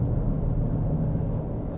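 A Cupra Terramar with a large engine accelerates up a motorway slip road, its steady low engine drone and road rumble heard from inside the cabin.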